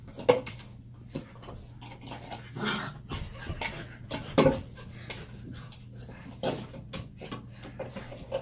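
A puppy pants and snuffles close by in a series of soft, uneven breathy bursts, with a few faint clunks and bumps mixed in over a steady low hum.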